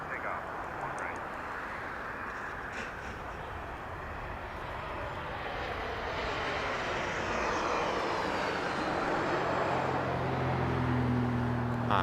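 An airplane takes off from runway 1 right at Las Vegas Harry Reid International Airport. A broad, steady engine roar builds gradually over twelve seconds and stays continuous, heard from a moderate distance.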